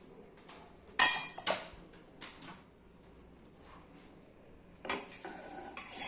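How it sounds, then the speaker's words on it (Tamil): Small metal utensils clink and rattle in a few sharp bursts while amla gooseberry liquid is strained through a small sieve, with quiet pauses between the clatters. "இப்போ வந்து நம்ம சின்ன ஜல்லடையில் வந்து வடிச்சுக்கலாங்க"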